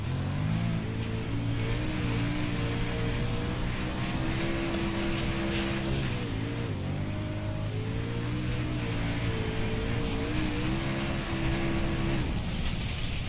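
Simulated modified race car engine droning steadily through a practice lap at Kokomo, pitch rising and falling with throttle and gear changes, loud and continuous with no talk.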